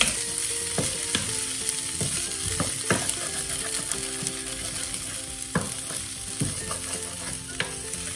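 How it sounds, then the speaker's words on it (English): Potato and aubergine sabji sizzles in a pan while a utensil repeatedly scrapes and stirs it, with clear intermittent scraping strokes over a steady frying hiss. "You have to also scratch in and mix it with the sabji."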